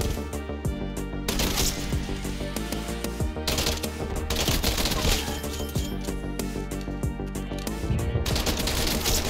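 Rapid bursts of gunfire in the Black Ops Cold War shooter, TEC-9 rounds and other weapons cracking loudly in quick repeated volleys with metallic clatter between them.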